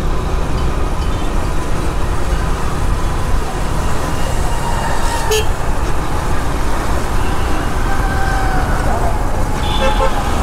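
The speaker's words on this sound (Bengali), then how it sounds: "ও ট্রাক মিনি পিক আপে করে কিন্তু গরু নিয়ে যাচ্ছে।" Steady roadway traffic on a city street in Chittagong, with a mini pickup truck carrying cows passing among cars and a bus; continuous engine rumble and a horn toot, with brief talk over it.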